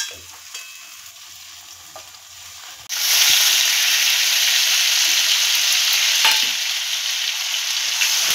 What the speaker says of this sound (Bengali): এখন মশলাটাকে ভালো করে কষাবো